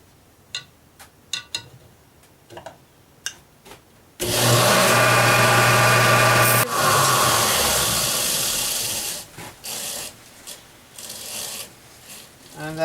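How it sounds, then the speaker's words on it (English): A parting tool cuts mango wood spinning on a lathe: after a few light knocks, a loud, harsh rasping scrape surges in and holds for about five seconds, then eases into softer intermittent scraping. "Could do it with sandpaper, but gonna do it with a parting tool still"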